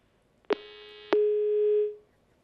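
Telephone tones after a call drops during a live news phone-in: a short beep, then a longer steady tone of about a second that fades, clean and alone.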